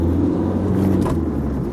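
A Volvo S40 diesel car pulls along in second gear, heard from inside the cabin as a steady low engine drone and road rumble, no talk.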